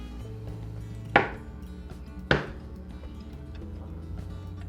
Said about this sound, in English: Plop them on a cutting board, cut them into quarters.